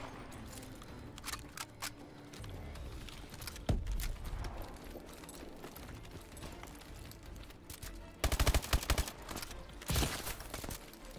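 Rapid bursts of assault-rifle and SMG gunfire from Call of Duty Advanced Warfare multiplayer, with a loud volley near the start and two dense, sharp clusters of shots near the end, no talking over them.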